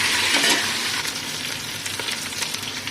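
Meat stirred in a pan over onions and ginger-garlic paste for an Afghani pulao, giving a steady close sizzle with scraping spoon strokes throughout, alone without voices.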